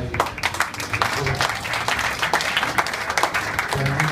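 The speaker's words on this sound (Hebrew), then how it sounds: "שמגיעות להם מחיאות כפיים." Applause from the audience at the 18th Rabin memorial ceremony, a dense, steady wash of clapping that fills the whole stretch without letup.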